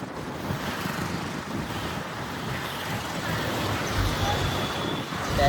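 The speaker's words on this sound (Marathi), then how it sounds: "आणि ट्रॅफिक बघा." Road traffic on a trip toward the Ekvira temple forms a steady broadband roll of passing vehicles, buffeted by wind against the microphone.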